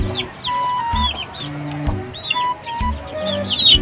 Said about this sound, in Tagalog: So ito yung mga sisiw mga kanukis na sisiw na alagang karton lang